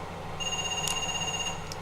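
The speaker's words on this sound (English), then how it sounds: "Right, I'm just going to go to the phone." A payphone in the Parasite Eve 2 survival horror game on PS1 rings with a steady electronic warble held throughout, over a dense low game ambience, with faint brief ticks partway through.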